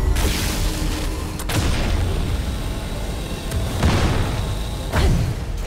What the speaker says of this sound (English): Gonna have to fire my laser.